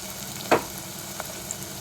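Three whole green chillies drop into onions frying in oil for a Tamil fish curry. A gentle, close sizzle is broken by one sharp clatter, then a couple of faint ticks, with no talking.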